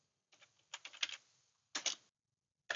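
Short bursts of keystrokes on a computer keyboard as a command is typed, a quick cluster of clicks followed by a second brief group, quiet and close with silence between.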